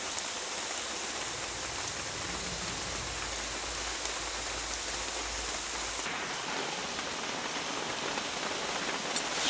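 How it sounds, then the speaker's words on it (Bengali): Heavy rain pours steadily, a dense continuous hiss of water drumming on surfaces with no pauses and no voices. "দেখেন প্রচুর বৃষ্টি হইতেছে"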